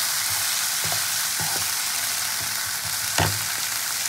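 Paste of ginger, dried red chilli and Kashmiri chilli sizzles in hot oil in a pan, a steady close frying hiss broken by a handful of sharp spatula knocks and scrapes, no talking.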